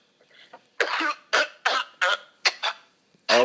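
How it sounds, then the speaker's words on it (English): A man coughs in a series of sharp, close bursts, roughly six to seven hacks with short pauses, clear and alone in a quiet podcast room. "Sounds like you got a bit of a cough there"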